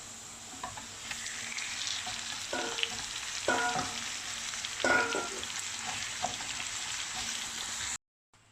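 Minced meat frying in a pan with ginger, garlic and chili paste, a steady loud sizzle with intermittent scraping and stirring clatters, ending abruptly.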